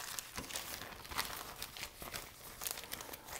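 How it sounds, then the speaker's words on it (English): A plastic bag crinkles and rustles in short bursts while croissant dough for almond croissants is slipped inside, fairly quiet and close with no voices. "And then I'm going to put that into a plastic bag."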